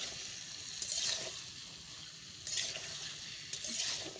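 Fish and vegetables fry in spiced oil with a soft, continuous sizzle. Three brief, brighter surges of crackling spatter rise out of the quiet hiss at regular intervals.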